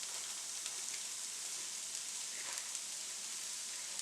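Overnight brown rice fries in a hot pan for shrimp fried rice, giving a steady, even sizzle that continues unbroken throughout with no talking.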